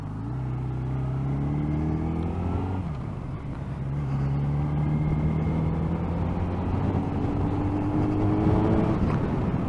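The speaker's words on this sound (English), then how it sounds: "it was the i3, which is the electric BMW" An electric BMW i3 drives along with a steady road rumble and whirring motor tones that rise smoothly in pitch as it accelerates, heard from inside the car with no talking.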